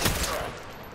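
Gunfire from the Sniper Elite 5 video game: a loud burst at the start that decays quickly into a fading rumble, heard alone without talk.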